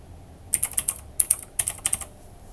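Quick bursts of keystrokes clatter on a computer keyboard in three short clusters, crisp and close against a quiet background.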